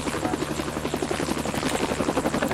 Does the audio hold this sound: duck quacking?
no